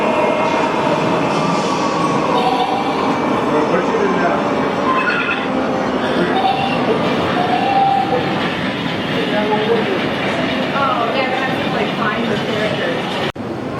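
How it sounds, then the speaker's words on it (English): A G gauge model Shay locomotive runs on a large indoor layout, giving a steady rolling rumble with clattering wheels and faint squeals throughout, under a busy background of crowd chatter. "The Shea locomotive."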